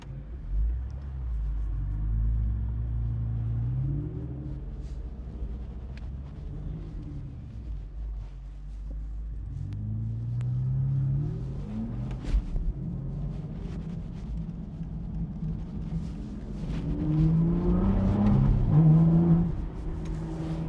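Aston Martin Vantage V12 Volante convertible driving, with a loud, rumbling engine that rises and falls through gear changes and builds to a strong revving surge near the end.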